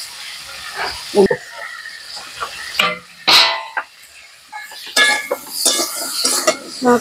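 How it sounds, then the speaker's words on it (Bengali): Pointed gourd (potol) fries in a pan, heard as clattering utensil and pan knocks with bursts of hiss and sizzle, close and fairly loud, in uneven spurts. "এই জন্য একটু পটল ভাজা করছি"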